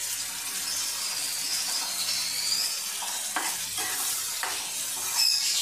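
Salt, chili powder and turmeric stirred into a frying onion-garlic-tomato masala for prawn curry, a loud continuous sizzle with scraping stirs and several sharp clicks of a spoon against the pan, no talking.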